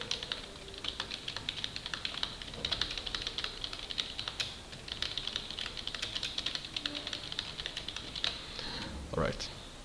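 Steady, rapid keystrokes patter on a computer keyboard as text is entered into an MS Word 2007 document, close and continuous for several seconds with a faint voice underneath.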